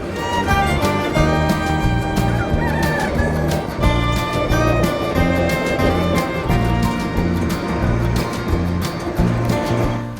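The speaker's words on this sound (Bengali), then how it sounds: "বিভিন্ন মুরগি আছে যেগুলো অনেক সুন্দর সুন্দর মুরগি, ফেন্সি মুরগি" Fancy chickens and ducks crowd a busy poultry market at Kazir Hat in Chattogram, with continuous clucking and calling layered over a dense, steady din of the marketplace throughout.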